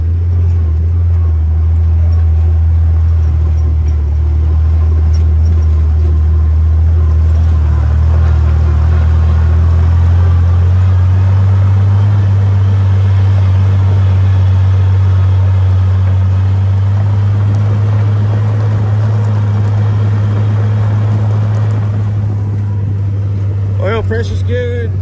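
A Willys Jeep engine labors in low gear with the overdrive disengaged as it climbs a hill on the Holcomb Valley Trail near Big Bear, California, a loud, close, continuous deep rumble and drone holding steady for the whole stretch.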